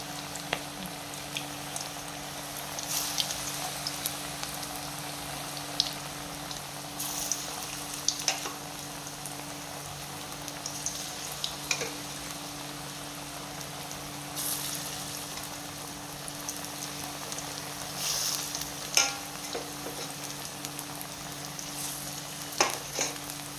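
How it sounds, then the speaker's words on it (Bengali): Pumpkin leaf fritters frying in hot oil, a steady soft sizzle and crackle with occasional louder pops, close and continuous with no one talking. "তেল তো গরম হয়ে গেছে, তেল দিয়ে দিয়েছি। এখন এক এক করে বড়াগুলো ছেড়ে দেবো।"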